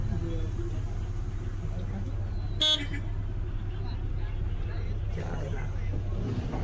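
Busy road traffic near the Kunkeshwar temple fair with a steady engine rumble; one short car horn blast cuts through, and faint voices murmur in the background.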